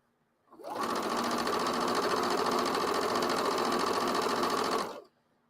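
A sewing machine stitches fabric strips in one steady, uninterrupted run of rapid whirring for about four seconds, starting and stopping cleanly, near and fairly loud.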